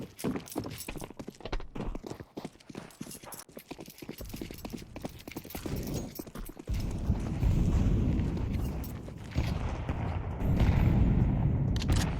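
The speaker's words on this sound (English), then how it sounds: "He heard a footstep from Chopper as well" Player footsteps on the Anubis map in a competitive Counter-Strike esports match patter rapidly as a dense, close run of steps, with game ambience swelling louder toward the end.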